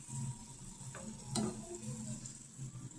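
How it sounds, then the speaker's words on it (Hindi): Leftover meat curry (gosht ka salan) sizzles quietly as it reheats in a pan in a home kitchen, a soft steady frying hiss with a few faint ticks and clinks, no voices. "इधर सालन गरम हो रहा है।"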